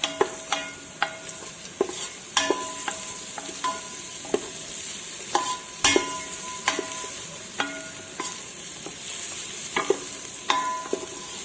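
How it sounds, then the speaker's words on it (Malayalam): Ingredients for chicken biryani are lightly sautéed in a pan: a steady, close sizzle with sharp, regular spoon clicks and scrapes against the metal, and no talking. "ചെറുതായിട്ട് വഴറ്റിയാൽ മതി, കൂടുതലായിട്ട് വഴറ്റണമെന്നില്ല."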